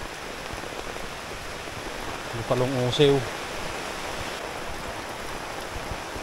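Heavy rain falls steadily and evenly throughout, a dense constant hiss, with a brief murmur of voices and a short tonal sound near the middle.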